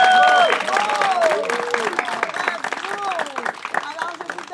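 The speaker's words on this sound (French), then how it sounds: "On vous applaudit." Applause from a gathering at a baptism in Boucherville, a steady patter of claps running throughout with a voice speaking over it.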